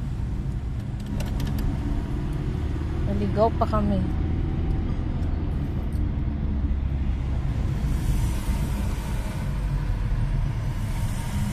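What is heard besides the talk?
road traffic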